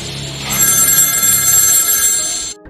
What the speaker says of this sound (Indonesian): Tak lama telepon pun berdering.